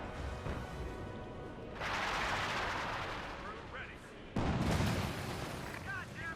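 Gunfire and explosive battle effects from Company of Heroes 2 as a Stuart light tank engages Grenadiers on a 1v1 map, loud dense bursts and blasts in two waves over a commentator talking throughout.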